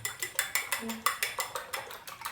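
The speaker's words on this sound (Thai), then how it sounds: "เราจะใช้ซ่อมตีนะครับ ตีทั้งสี่ลูกเลยให้เข้ากัน" Fork whisking four eggs in a bowl, a steady run of about a dozen quick, bright clinks against the sides at an even rhythm, close and fairly quiet.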